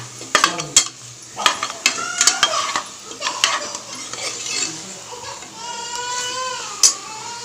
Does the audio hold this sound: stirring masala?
yes